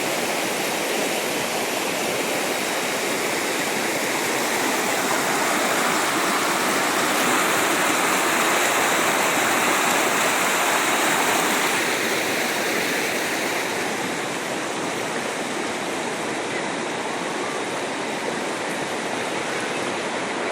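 Waterfall at Chilling Falls in Kuala Kubu, Malaysia, roaring as a steady, loud, broadband rush of falling water that carries on unbroken for the whole stretch with no voices.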